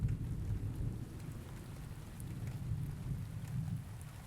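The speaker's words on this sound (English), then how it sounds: "So just added in this quick like thunderstorm thing." Steady rain pours with a low, rolling rumble of thunder underneath, continuous and soft.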